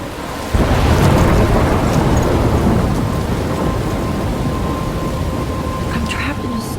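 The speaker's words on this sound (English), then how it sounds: "I'm trapped in a storm?" Heavy rain and rolling thunder from a storm in the video game Life Is Strange, a dense, steady roar that swells suddenly and holds loud throughout, with no talking.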